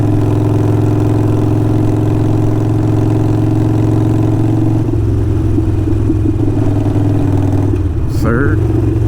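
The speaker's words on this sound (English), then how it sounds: "just cruising in fifth gear, 50 miles an hour. This is what it sounds like." A Harley-Davidson Sportster 48 with Kinetic 540 lateral exhaust cruises in fifth gear at about 50 mph. Its loud, steady, deep rumble runs throughout and shifts character partway through, with a brief higher whine near the end.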